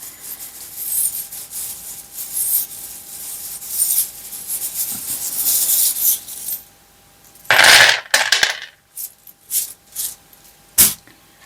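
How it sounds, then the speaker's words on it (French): Small metal charms clink and rub close to a microphone, with a stretch of soft rustling and scraping followed by sharper jingling clatters and a final bright tap, no talking. "J'essaie de ne pas mettre trop les breloques en dessous du micro pour que vos oreilles ne soient pas"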